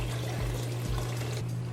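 Coconut milk and water poured into a pot of Guyanese curry, a short steady liquid pour with a few soft glugs, close and alone.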